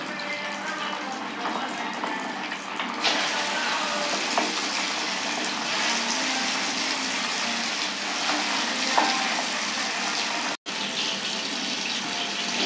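Fish frying in hot oil for Tirunelveli meen varuval, a dense, continuous sizzle and hiss held close and steady for about thirteen seconds, with one brief dropout near the end.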